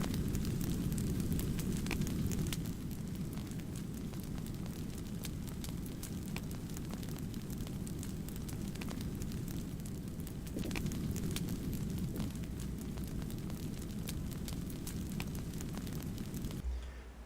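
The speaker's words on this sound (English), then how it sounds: "that fire sounds annoying" Fire crackling in the video game Planet Explorers, a steady low rumbling roar with faint crackles that runs unbroken throughout at moderate level, with no talking.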